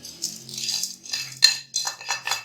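A spoon scrapes and stirs panjiri mixture in a pan over a low flame, giving close, uneven bursts of gritty rattling and clinking.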